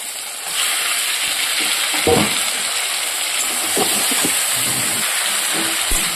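Boiled taro stems stir-fried with spices in a pan: a steady, loud frying sizzle runs throughout, with a few scraping stirs of a utensil standing out.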